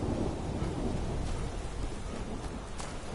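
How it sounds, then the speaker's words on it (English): Heavy rain with rolling thunder in the Skyrim video game, a steady loud wash of downpour with low rumbles and occasional sharper cracks, no voices. "There's like a mixture of this lightning happening and thunder in game"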